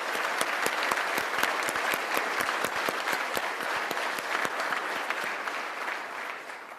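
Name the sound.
applause for the work put into the programs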